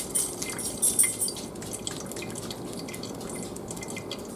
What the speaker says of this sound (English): So the first thing that we want to do is strain all of our broth.